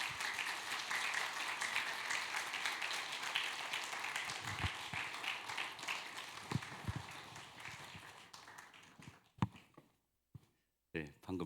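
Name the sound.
applause welcoming an elder to the stage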